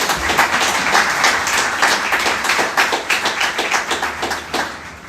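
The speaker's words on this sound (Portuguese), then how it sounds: "Eu queria que você desse uma salva de palmas ao Senhor" A church congregation breaks into sustained applause, many hands clapping together in a loud, dense wash that gradually loosens into a more rhythmic, uneven patter before tapering off.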